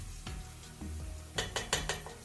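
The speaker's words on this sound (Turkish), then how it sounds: "Bunları yakmadan güzelce kavuracağız" Chopped onions and garlic sizzling and sautéing in a hot pan, with a few sharp stirring scrapes and clinks of a utensil against the pan toward the end.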